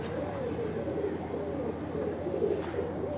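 A pigeon coos softly in a low, rolling rhythm, a faint continuous murmur close by, with no talk over it.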